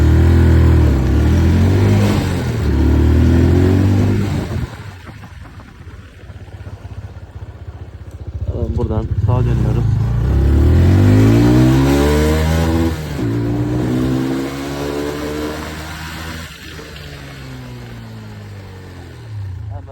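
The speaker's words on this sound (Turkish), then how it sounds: "Hemen tek marş motorumuzu çalıştırıyoruz. Ve yolumuza çıkıyoruz." A car engine starts and the car pulls away for an uphill hill start. It revs loud and close in rising and falling sweeps through the gears, with a quieter lull in between.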